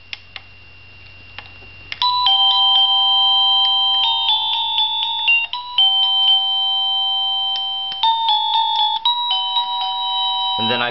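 A SadoTech Starpoint Gen1 long-range wireless doorbell receiver plays a clear, loud electronic chime melody of sustained tones that repeats in phrases for several seconds after a brief quiet start.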